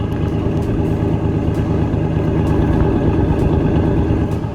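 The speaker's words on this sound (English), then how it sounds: "It doesn't sound that bad for a V6." A V6 truck engine with a newly fitted exhaust idles steadily nearby, a loud, even, low rumble holding constant throughout with no speech.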